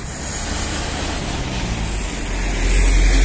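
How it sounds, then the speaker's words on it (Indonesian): A Sembodo SE902 intercity bus travels the eastern Sumatra highway toward West Sumatra, a steady loud engine and tyre roar that swells as it nears, with no talk. "Sembodo SE902, bus pertama pian lintas timur seperti ini menuju Sumatera Barat."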